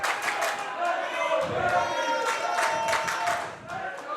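Wrestling audience at a Magnum event cheering and clapping throughout, a dense crowd roar with scattered shouts, steady and fairly loud.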